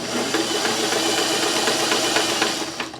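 A sewing machine stitches fabric ribbon in a steady, close mechanical whir with a faint rhythmic rattle, running evenly and alone for the whole stretch.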